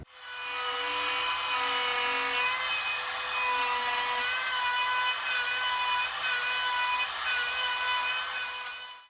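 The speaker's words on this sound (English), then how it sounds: "This is going to be the guide or the template that I run my router along." A router cuts a mortise in wood along a template while installing a barn door, a loud, steady high whine with a rasping cutting edge that ramps up, holds for several seconds and then winds down.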